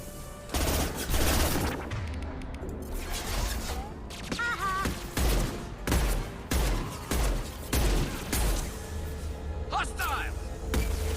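Weapon fire in Mass Effect 2, a steady run of loud rhythmic shots roughly every half second, with occasional game sound effects layered over continuous combat noise.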